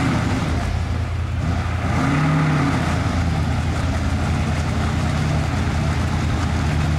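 A Soviet GAZ-66 Shishiga 6x6 military truck with an inter-axle locking differential drives off-road, its engine droning steadily and loudly close by, rising in brief revving strain under load.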